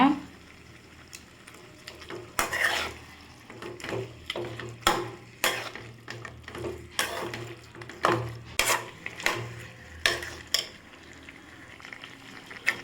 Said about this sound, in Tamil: நம்ம இஞ்சி பூண்டு பேஸ்ட் வச்சுருக்கோம்ல அதையும் சேர்த்து நல்லா வதக்கிக்கோங்க